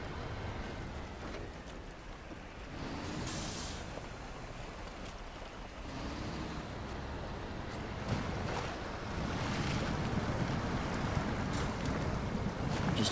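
Truck splashing and churning through deep water in the off-road driving game SnowRunner, taking damage to engine and suspension; a steady broadband wash of water and engine rumble, swelling louder toward the end, with no talk.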